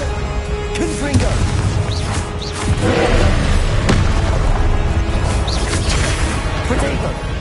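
Hogwarts Legacy duel with the fiery Confringo blasting spell: loud booming impacts and crashes punctuate a busy battle soundscape, several distinct blasts spread across the scene.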